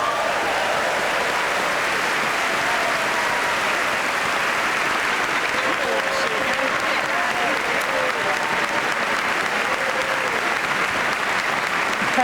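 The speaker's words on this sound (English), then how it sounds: "The President enters, as he does every year, to standing applause from everyone." Sustained standing applause from a packed chamber as the President enters the 2006 State of the Union address, a dense, steady roar of clapping with faint voices and cheers mixed in.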